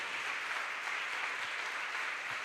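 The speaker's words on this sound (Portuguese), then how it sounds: "você pode dar um aplauso a esse Deus poderoso" A church congregation applauds after a preacher's call to praise God, a steady wash of clapping filling the room with no clear individual claps standing out.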